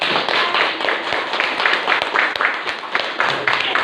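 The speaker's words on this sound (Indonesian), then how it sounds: "Kita beri aplaus dulu untuk kelas" A school class claps together in a lively, uneven patter of many hands, loud and close in a classroom, with a few voices mixed in.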